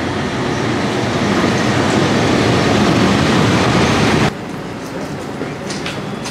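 A loud, close rumble of a train arriving at a station in Tbilisi, Georgia, rolling along the tracks with a broad roar, which cuts off abruptly to a quieter hum with faint squeals.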